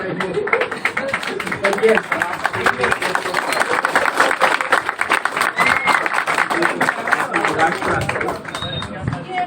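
A classroom or lecture audience breaks into sustained clapping, a dense, lively patter of many hands filling the room for several seconds, with some chatter mixed in.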